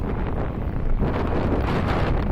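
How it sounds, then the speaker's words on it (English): Strong headwind roars steadily over a microphone on a moving Eahora Tiger Max electric scooter during a top-speed run, a continuous loud buffeting rush with no talk. "Going in some headwind."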